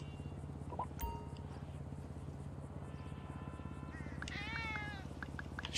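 A cat meows a few times in the video game Grand Theft Auto V over a low, steady mechanical hum, with a brief click early on.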